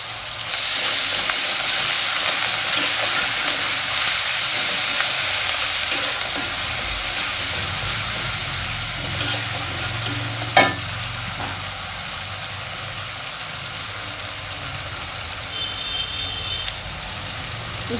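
Onions with salt, garlic paste and ginger paste sizzling steadily in hot oil in a pan, a continuous close frying hiss with occasional stirring, no talk.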